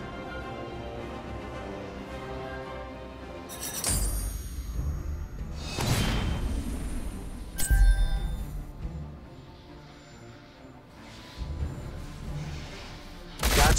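Attacks on an enemy minion in the Heroes of the Storm video game: a few whooshing swings and thudding impacts, moderately loud, over steady game music.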